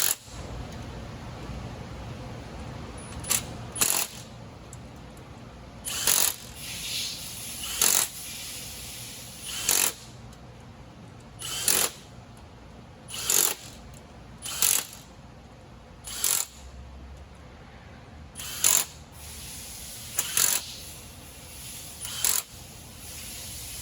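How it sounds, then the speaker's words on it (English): A hand ratchet clicks in repeated bursts while transmission cover bolts are tightened, working from the middle outward during a rear main seal job; sharp, close pawl clatter comes in regular spurts separated by short pauses. "We're going to tighten our cover."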